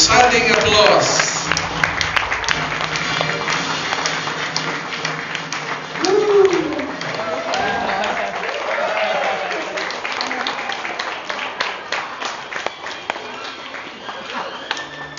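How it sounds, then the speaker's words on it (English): Guests applaud the grand entrance of a birthday celebrant at her 65th birthday party, light, scattered clapping running under music and voices that carry on throughout. "Let us all welcome her with resounding applause."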